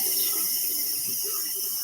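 Hot tap water runs into a sink while hands are washed after touching raw chicken, a steady hissing stream alone at close range.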